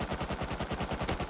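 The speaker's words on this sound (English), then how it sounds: "Let's just shoot." Rapid automatic gunfire from the survival video game Rust, a tight burst of evenly spaced shots hammering close and loud without pause.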